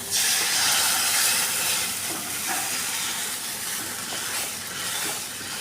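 Steady, loud hiss and crackle of buttermilk and gram flour batter for kadhi frying in hot oil, a broad continuous sizzle with no voices.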